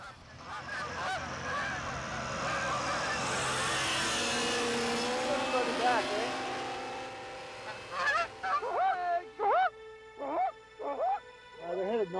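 Canada geese fly near an ultralight aircraft that is coming in to land, with a droning engine and wind rush giving way to a string of loud, close honks at the end.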